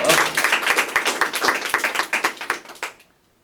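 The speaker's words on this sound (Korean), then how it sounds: "네, 박수 한번 주세요." Audience applause at the close of a mock courtroom hearing on deepfake regulation, a dense burst of many hands clapping that thins into separate claps and stops abruptly after about three seconds.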